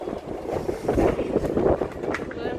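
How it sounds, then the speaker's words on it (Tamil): Strong wind buffeting the microphone with a steady roar and gusty swells, outdoors by water, continuing throughout. "இங்கே பாருங்களே எப்படி அடிக்குது காற்று, செம்ம காற்றுங்க."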